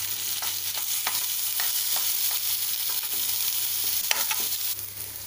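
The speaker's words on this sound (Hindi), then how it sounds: "इसमें 1 चम्मच घी डालें, फिर इसमें चावल भूनना है।" Basmati rice fries in a spoonful of ghee, a continuous soft sizzle broken by repeated scraping clicks of stirring at an uneven rhythm, close and moderately loud, with no voices.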